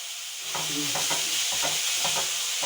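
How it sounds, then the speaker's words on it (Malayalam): A spoon scrapes and stirs through papaya stir-fry in a pan in several quick strokes, over a soft constant sizzle. "ഒന്ന് ഇളക്കി യോജിപ്പിച്ച് എടുക്കണം"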